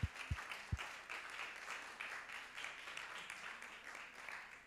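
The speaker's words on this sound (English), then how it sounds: "Can you hear the applause?" Conference audience applauding in a hall, a few sharp low thumps at the start, then a steady faint wash of scattered clapping continuing throughout.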